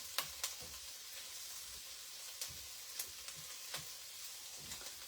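Beef stew vegetables sizzle softly in a pot while a spoon stirs them, with a handful of quiet clinks and scrapes spread over a low, steady frying hiss.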